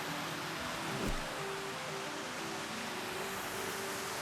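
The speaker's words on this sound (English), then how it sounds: "the waterfall coming down, and a pretty good sized pool" A backyard pool waterfall beside a spa pours steadily, giving a continuous broad rushing wash of water that stays even and close with no voices.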